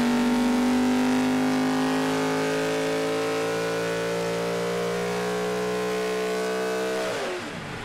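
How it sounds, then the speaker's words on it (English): A V8 Supercar race engine from KRE Race Engines holds a loud, sustained high rev, a steady unbroken drone near the microphone that dips briefly at the end. "I just want to hear this engine sing"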